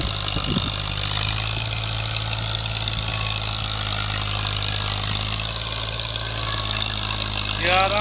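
A Ghazi tractor pulling an 11-tine cultivator through a wheat field gives off a steady, droning engine hum at a constant level throughout, with faint voices in the background.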